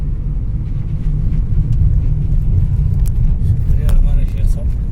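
A car drives along a mountain highway on the Kargil-Kashmir road near Zojila, a steady loud engine and tyre rumble with wind, no clear pass-by peak, continuous for several seconds.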